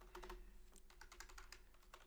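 Someone types a command on a computer keyboard, a quick run of light key clicks. The tapping is faint and close and sounds steady, with no talking.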